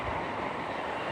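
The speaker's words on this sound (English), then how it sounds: "there's a train coming past." A train passes close by outdoors on a bright day, its loud, steady rumble and rolling wheel noise filling the air without a break. No one speaks.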